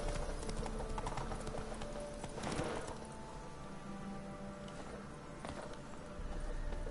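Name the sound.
horse hooves from the video game The Witcher 3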